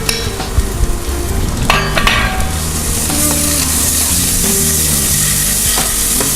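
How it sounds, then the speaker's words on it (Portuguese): Chopped onion sizzling and frying in melted margarine or butter in a pan, a steady close crackle with occasional stirring scrapes and clinks, no voices. "Nós vamos colocar a margarina ou manteiga. Já colocar imediatamente a cebola"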